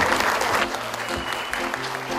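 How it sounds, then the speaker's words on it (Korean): Audience applause at a multicultural family holiday cooking contest, a steady crowd clapping that is loudest at the start and then continues more evenly, with some background voices. "큰 박수 부탁드립니다."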